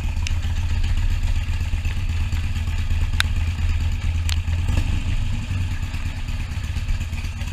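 Harley-Davidson Iron 883 motorcycle engine rumbling steadily at a low idle or cruise, loud and close, with a couple of sharp clicks over the throbbing exhaust.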